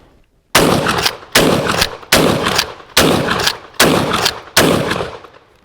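A Sulun Arms Tacsoras 12 gauge semi-automatic shotgun, a Benelli M4 copy, fires six loud, close shots at a steady pace of about one every 0.8 seconds, each blast followed by a brief ringing decay, with no talking.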